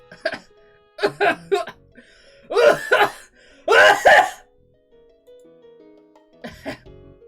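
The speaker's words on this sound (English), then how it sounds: "Awkward cough." Several short, close coughs come in bursts with pauses between, followed by a quieter throat-clearing sound at the end.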